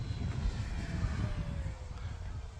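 An E-flite F4U-4 Corsair 1.2 m RC model airplane flying at full throttle, its steady electric-motor drone continuous and moderately distant, with a slowly shifting whine and no speech.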